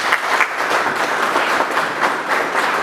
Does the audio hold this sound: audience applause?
yes